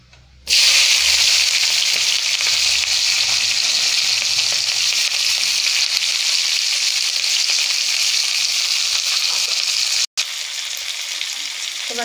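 Onions dropped into hot oil in a pan, the same oil just used for frying pakoras, set off an abrupt, loud, steady sizzle that holds close and unbroken apart from one brief cut near the end.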